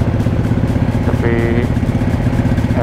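A Suzuki GSX-R600 sport bike engine idles steadily and loudly up close on a hot day, with a short tonal whine partway through.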